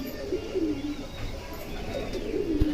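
Homing pigeons coo softly and repeatedly over a low background hum, their throaty calls rising and falling close by.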